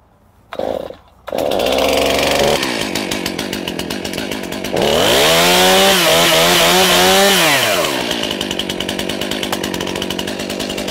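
A STIHL chainsaw sputters briefly, then roars into a loud, steady run close by, rising into a high rev before dropping back to a rattling idle.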